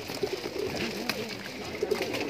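Pigeons coo inside a loft, soft throaty calls repeating in short bursts at close range over a low background murmur.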